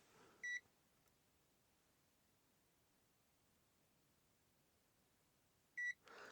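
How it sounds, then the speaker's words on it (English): A Zoyi ZT-X multimeter in amp mode gives two short, clear electronic beeps several seconds apart, each standing out alone against a faint background hiss. "when there's no connection in the amp mode, the meter beeps every couple of seconds"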